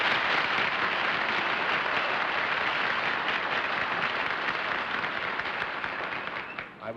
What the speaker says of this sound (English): I would like to believe that all that warm applause was for me